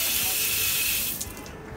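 Water pours steadily from a historic public stone fountain in Eyüp, Istanbul, a loud close hiss that eases off near the end.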